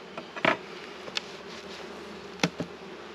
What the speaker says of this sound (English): That's a lot of bees up top.